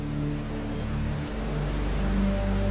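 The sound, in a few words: rain falling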